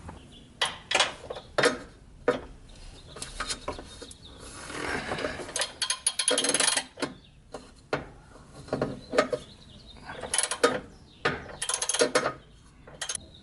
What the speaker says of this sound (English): I'm gonna have to muscle it with a normal wrench